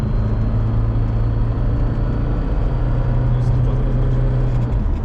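A Mercedes 'beczka' diesel engine hums low and steady while driving, a smooth rumbling tone under road noise inside the cabin, with no clear talk.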